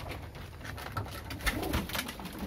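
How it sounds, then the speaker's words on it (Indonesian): Female pied pigeons for sale, cooing softly in a cage, a few low rolling coos over faint background rustling. "Oke, dijual merpati, betina, plontang-plontang,"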